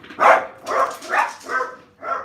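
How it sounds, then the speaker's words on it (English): Five loud barks from a dog close by, evenly spaced in quick succession with no talking. "I don't know what they're barking at."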